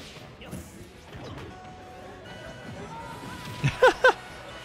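Charged smash attacks land in a Smash 4 singles match: three sharp, loud crashing hits in quick succession near the end, over a steady bed of game noise.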